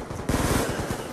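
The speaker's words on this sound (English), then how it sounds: "Shoot them with this MSMC." Rapid burst of submachine gun fire from an MSMC in a video game, a dense, loud rattle of shots following a brief quieter lead-in, with no talking.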